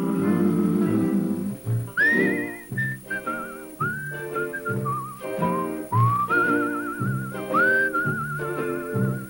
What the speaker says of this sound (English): It's a whistling tune for walking in the night.